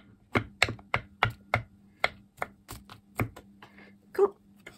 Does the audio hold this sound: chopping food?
yes